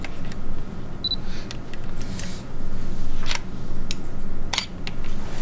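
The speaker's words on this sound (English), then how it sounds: "if you could hear the shutter, it lasted about a second" A DSLR camera shutter clicks open for a one-second exposure, then snaps shut, against a steady background hum.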